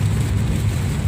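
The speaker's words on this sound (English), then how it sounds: "Till then, you enjoy the rain with me." Heavy rainfall in Chandigarh, India, a dense steady wash of rain noise, loud and continuous with no voices.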